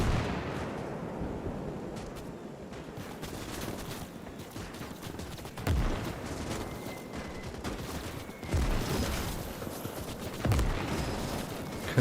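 Machine-gun fire and distant artillery-like thumps in the World War II strategy game Call to Arms - Gates of Hell: Ostfront, a steady rattling barrage with several heavier booming hits rising above the din.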